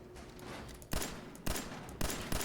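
Loud blasts go off in Fallout 4 combat, several sharp booming impacts about half a second apart, each with a short rumbling tail over a busy background.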